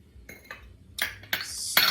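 A spoon stirs sugar into a summer dessert mixture in a bowl, giving a few scattered clinks and scrapes that grow louder and brighter toward the end.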